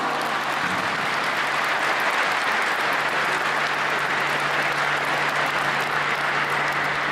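Crowd applause at a speedway team presentation for the 2014 season, greeting a rider; dense steady clapping fills the whole stretch with a low constant hum beneath.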